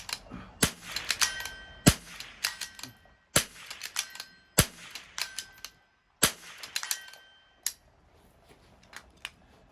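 A Vudoo V22 rimfire rifle fires several sharp, close cracks, each followed by quick metallic clacks of the bolt being cycled, in rapid bursts with short pauses and no talking.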